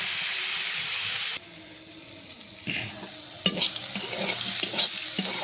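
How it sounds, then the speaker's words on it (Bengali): Slices of bitter gourd (karela) fry in a pan, giving a steady sizzle and hiss. Several sharper scrapes and knocks come through as they are stirred partway through. "আস্তে আস্তে করলাগুলো সুন্দরভাবে ভাজা হয়।"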